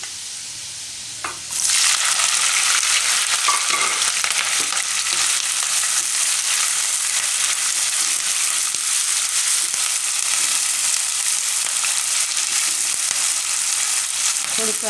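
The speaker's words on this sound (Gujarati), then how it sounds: "થોડીક વાર તેલમાં શેકી લેવાના મરચાંને." Green chillies hit hot oil with garlic in a pan for methi marcha nu shaak, bursting into a loud, close, steady sizzle that holds without pause.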